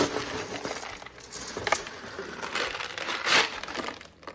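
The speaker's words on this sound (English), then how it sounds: "I'm going to take my scoop and see how effective it is at scooping from here to there." Plastic scoop digging into and scooping dry cat food from a bag, a close rustling crunch of kibble with scattered rattles and shuffling over a few seconds.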